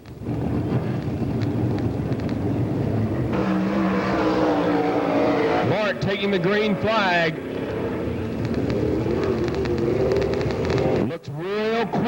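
Race cars roar around the track at Pennsboro Speedway during a 1995 STARS late model race, a loud continuous engine drone with wind buffeting, under a race commentator talking throughout.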